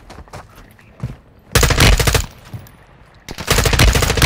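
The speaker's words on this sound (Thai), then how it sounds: "เออใครยิงอะ" Gunfire in Warzone 2.0, a battle royale video game: a few scattered single shots, then two loud sustained bursts of rapid automatic fire separated by a short lull.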